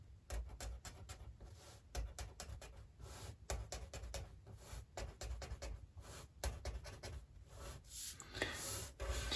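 A marker drawing a circuit diagram with resistors, producing quick squeaky strokes and scratches in short irregular bursts, close and quiet with no talking.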